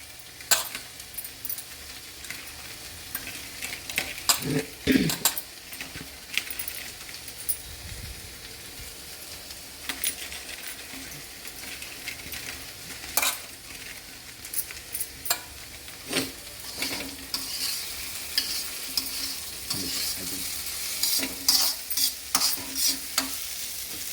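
Poha ingredients being stirred and fried in a pan with salt, a soft sizzle under repeated scraping and clinking strokes of a spoon, irregular and close, with no talking.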